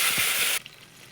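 Loud hissing sizzle of water poured into hot oil with cumin seeds, a bright broadband burst that cuts off abruptly, leaving near silence.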